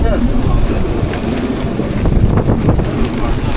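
Strong wind buffets the microphone in loud, rumbling gusts during a storm in the Atlantic, with rushing water and waves from a boat under sail.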